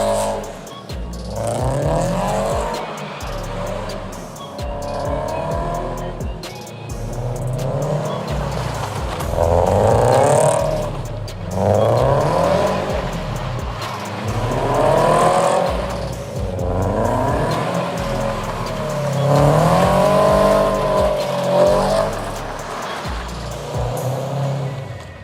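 Toyota FR-S driven in street drifting and donuts, engine revving hard in repeated rising and falling surges with a tire squeal, loud and close throughout the run.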